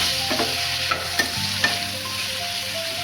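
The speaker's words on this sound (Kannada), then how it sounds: "ಮೆಣಸಿನ್ಕಾಯಿ, ಈರುಳ್ಳಿ, ಟೊಮೆಟೊ ಫ್ರೈ ಮಾಡ್ಕೊಳ್ಳೋಣ" Green chillies, onion and tomato with cumin and curry leaves frying in a pan, giving a loud, steady sizzle with a few brief clicks of stirring, and no voices.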